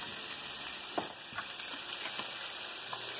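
Steak, garlic and eggs sizzle quietly in a pan, a steady soft hiss broken by a few faint scrapes as a spatula stirs them.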